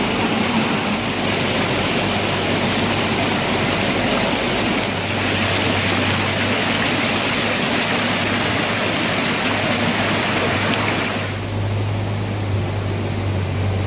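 Heavy rain and rushing floodwater in Idukki district pour down in a dense, unbroken roar, loud and close, with a brief dip near the end.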